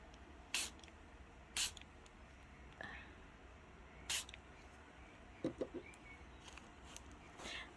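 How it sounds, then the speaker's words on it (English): Several short, quiet hissing sprays of water from a spray bottle onto tie-dye fabric, spaced irregularly, with faint soft rustling between them. "now we're going to spray it with the water again"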